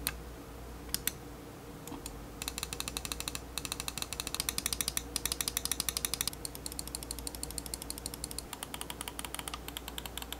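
Titan GX Air wireless gaming mouse buttons are clicked repeatedly in quick, crisp, loud bursts, a dense rattling run of sharp clicks close up with short pauses between, no talk.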